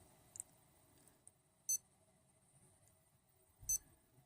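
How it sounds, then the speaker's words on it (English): A Garmin Fenix 3 watch metronome beeps faintly at a steady pace during a weight-lifting routine. Two short electronic beeps come about two seconds apart over a quiet background with small ticks. "That's the metronome. Now I've set it up to beep."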